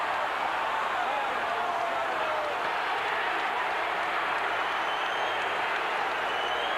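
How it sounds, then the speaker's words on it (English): A dense, steady roar of crowd noise, likely booing, fills an arena after a first-round boxing knockout stoppage in a Carl Williams fight; the loud, continuous sound runs throughout with no clear breaks. "there's some booing going on"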